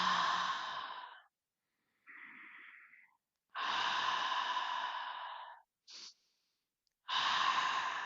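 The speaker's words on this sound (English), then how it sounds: "Let's close this circle with 3 deep breaths." A guided meditation closes with three deep breaths during a Taurus blood moon lunar eclipse, each long breathy exhale sighing out close to the mic, with short quiet inhales between them and no talking.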